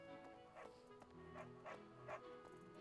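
A dog in the video game Fire Emblem: Three Houses gives several short yips and whimpering barks in a loose rhythm. They sit faintly under steady game music.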